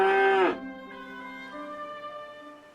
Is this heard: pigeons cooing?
no